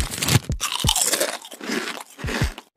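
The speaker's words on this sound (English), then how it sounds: "Do you like loudly crunching potato chips and crinkling the bag?" Potato chips crunched loudly and close up, a rapid run of crisp, crackling bites and chewing with brief pauses between bursts.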